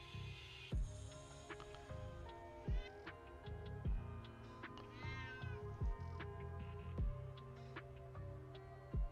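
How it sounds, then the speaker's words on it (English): A cat meows several times with rising and falling cries, fairly close, over a steady low hum and scattered ticking, with no talk. "go away, kitty. Stop meowing."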